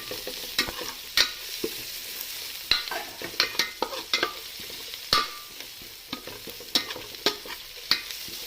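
Green jackfruit with turmeric powder being stirred in a frying pan, a spoon scraping in irregular clattering strokes over a steady close sizzle, with no talking.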